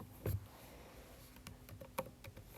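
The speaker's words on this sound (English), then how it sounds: "After I finish typing that definition, I'm going to hit enter." Fingers tapping a computer keyboard with a firmer press of the enter key, quiet scattered clicks at close range with no talk.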